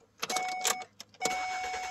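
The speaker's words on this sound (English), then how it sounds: "starts the car with that key" A Ford car starts with its key, a short crank followed by the engine catching, with a faint electronic chime tone running through, heard fairly quietly.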